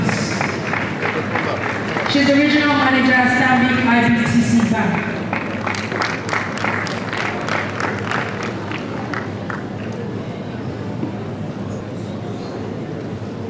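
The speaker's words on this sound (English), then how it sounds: "A round of applause for her, please." Applause from a conference audience builds under a voice on a public address system, then separate claps ring out distinctly before fading into quieter room noise.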